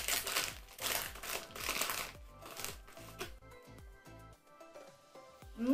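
A bag of four-cheese cheddar corn chips is torn open and rustled, with dense crinkling of the packet close up for several seconds, thinning into sparser crackles toward the end.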